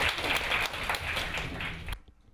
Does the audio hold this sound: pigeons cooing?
no